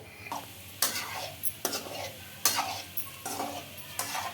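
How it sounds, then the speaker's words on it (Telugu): Gulab jamun balls made from Balamrutham flour being dropped one by one into hot oil, each landing as a brief burst of sizzle with faint utensil clinks, fairly quiet and close. "ఒక్కొక్కటి చేసుకుంటూ అలాగే వేస్తున్నాను ఆయిల్లోకి"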